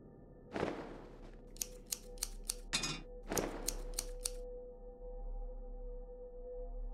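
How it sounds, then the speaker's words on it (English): Several quick, crisp snips in a row as scissors cut a dress in the video game The Cat Lady, close and clean, with a soft low hum underneath and no talking. "I need to use the scissors on the dress."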